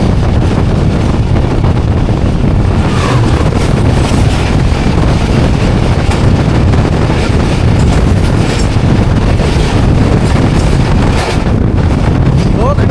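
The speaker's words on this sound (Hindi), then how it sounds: "2 घंटे डिले के साथ आ रही है GU40 लीड कर रहा है 2 डाउन खैबर में इसको।" Khyber Mail train with a GU40 locomotive leading, passing at night about two hours late, heard as a loud continuous rumble and clatter of wagons with heavy wind buffeting the microphone throughout.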